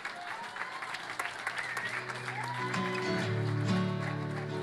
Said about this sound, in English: can we just have one more big round of applause for our debaters, our commentators tonight, Mr. Levine and Mr. Robbins?